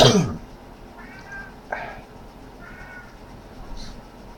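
A cat gives a few short meows, one after another with gaps between them, fairly faint against a quiet indoor background after a brief loud knock at the start.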